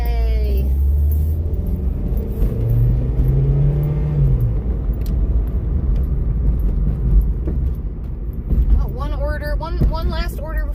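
Car driving on roads in Southern California: a constant low engine and road rumble with wind noise, a voice talking partway through and a brief tonal warble near the end.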